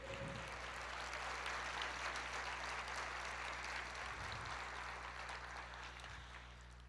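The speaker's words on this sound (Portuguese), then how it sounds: "Aplauda o Senhor" Applause from a church congregation, a broad steady wash of clapping that holds for the whole stretch and eases slightly toward the end, with a low hum running beneath.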